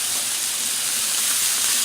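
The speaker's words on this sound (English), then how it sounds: "I may squirt a little water every now and then just to steam it" Steam hisses steadily off a hot Blackstone griddle where water was squirted beside cooking Brussels sprouts and bacon, a close, continuous broadband sizzle with no break.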